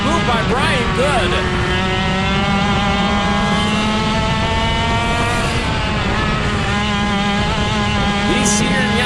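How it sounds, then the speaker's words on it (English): Senior Yamaha racing karts scream past on a track at a state championship night race, their high engines whining and overlapping, loud and close, with a commentator talking over them. "These senior Yamaha cars, they bring the speed."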